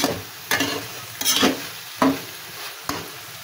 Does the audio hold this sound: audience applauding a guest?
no